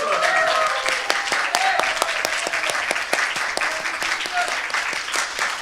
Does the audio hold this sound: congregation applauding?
yes